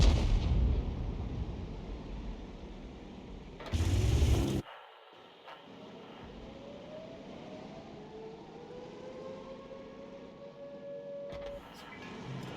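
Tank gun rounds fired from a Conqueror gun carriage in a video game, with a loud broadband blast, a sudden cutoff and a long whistling shell flight that rises and fades before a distant impact.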